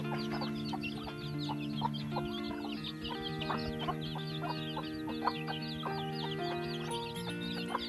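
Chickens, including a hen with young chicks, cluck repeatedly at a farm after rain, busy overlapping calls near and far with occasional crowing, alongside steady chirping and no talk.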